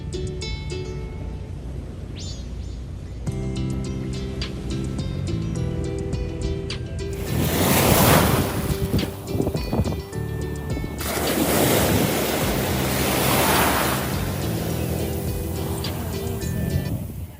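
Waves break and wash onto a beach in Puerto Rico, with loud surges of surf rolling in and receding under steady wind, following a quieter opening with some faint background tones.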